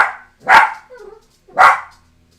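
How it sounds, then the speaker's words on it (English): Attack dogs barking, two loud, sharp barks about a second apart, close by, with a faint whimpering sound between them. "Attack dogs."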